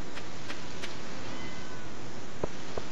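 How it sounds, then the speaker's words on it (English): A cat meowing loudly, three quick calls early on, then two more sharp meows after a pause, over a steady hiss of background noise. "I also have a loud as frick cat."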